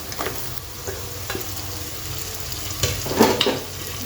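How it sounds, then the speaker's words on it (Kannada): Tomatoes and onions fry in a pan for churumuri, a steady sizzle with scraping stir strokes that grow louder and busier toward the end, no voices. "ಸ್ವಲ್ಪ ಫ್ರೈ ಮಾಡಿ ಎಲ್ಲ ಜೊತೆ ಮಿಕ್ಸ್ ಆಗಬೇಕಲ್ಲ"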